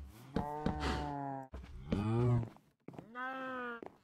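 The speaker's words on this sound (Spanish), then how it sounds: "Vaca." A cow in the Minecraft video game moos three times in a row, each call a drawn-out, close and clear low bellow with short gaps between.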